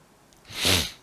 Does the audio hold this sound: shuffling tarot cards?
no